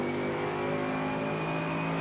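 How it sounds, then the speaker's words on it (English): Mercedes AMG GT3 engine in a Le Mans racing game accelerating out of a corner, a steady rising engine drone with strong harmonic whine, continuous and close, no talking. "we're able to pick up the gas pedal a lot earlier this time and drive out of that corner"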